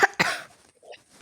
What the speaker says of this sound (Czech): já mám nějaký kašel